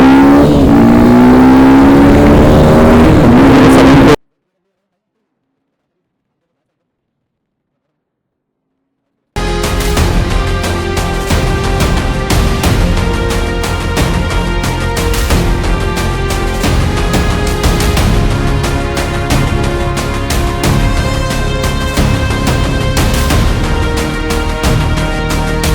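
A Hero Xpulse 210 motorcycle accelerates at speed, loud and close, its engine note sweeping upward before a sudden few seconds of silence, then a sustained steady high-revving drone with heavy wind rush for the rest.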